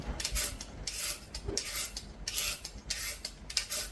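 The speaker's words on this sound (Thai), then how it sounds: "ในส่วนของแครอทนะคะ วันนี้เล็กจะขูดเป็นเส้นยาว" A carrot is grated into long thin shreds, giving rhythmic rasping strokes in quick bursts, close and crisp, with no talking.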